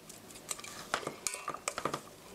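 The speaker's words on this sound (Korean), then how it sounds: "이렇게 고루 섞어주시고요" Mashed tuna being stirred evenly in a bowl, with quiet clinks and scrapes of a utensil against the dish in an irregular rhythm, close and faint, with no voices.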